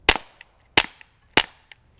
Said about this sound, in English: This is an Octane 9 from Soundscope, of course, a very old one of their first ones. And it works just fine as a 22 suppressor.